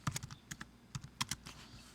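Someone types a short class name on a computer keyboard, producing quiet, close, irregular key clicks in a brief burst with small pauses between strokes.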